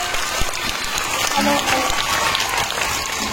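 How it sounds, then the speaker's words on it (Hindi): Loud, sustained applause from an audience for the teachers at a school street-play event, dense clapping running throughout with a voice briefly audible beneath. "अपने टीचर्स के लिए, उत्साहवर्धन के लिए खूब जोरदार तालियां बजाइए"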